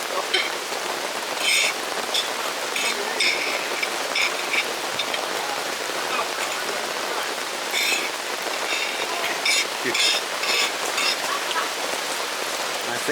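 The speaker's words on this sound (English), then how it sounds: "it is really pouring with rain now" Heavy rain pours steadily, a dense hiss of drops drumming on surfaces, constant and close with no voices.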